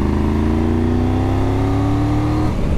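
Triumph Tiger 1200 GT Pro motorcycle with a T-plane engine, loud and close, revving low in the rev range with a steady throbbing drone whose pitch climbs gradually, then cuts off near the end.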